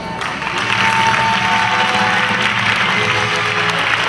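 Audience applause at the Puig-reig 2012 Pubilla and Hereu election ceremony, a steady, dense round of clapping filling the hall throughout, close and loud.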